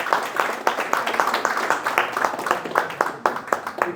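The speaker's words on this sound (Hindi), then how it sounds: "जोरदार ताली से स्वागत किया जाए भाई।" Audience clapping to welcome a guest at a coaching class, a steady patter of close, scattered hand claps from a small group.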